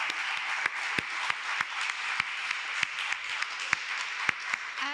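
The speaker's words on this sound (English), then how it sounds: "So one more round of applause for them." Audience applause for newly inducted students at an honor society induction ceremony, a steady wash of many hands clapping in a room with a few sharper louder claps standing out, no talking over it.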